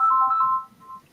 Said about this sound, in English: And that's my phone ringing.